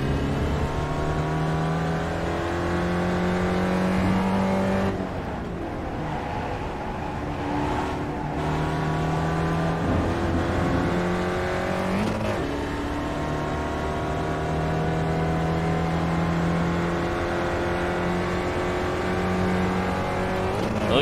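Race car in the iRacing sim racing game, engine droning steadily at high revs with gear-shift pitch changes throughout, loud and continuous, the car getting loose over a curb and into the dirt.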